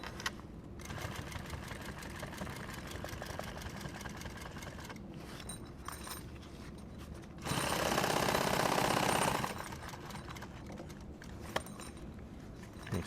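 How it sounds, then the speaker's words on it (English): A sewing machine runs in sustained rapid bursts while stitching nylon tactical gear, with a steady mechanical chatter, brief pauses and one louder, faster stretch midway, heard up close with no talking. "so I'm going to sew it from this side here."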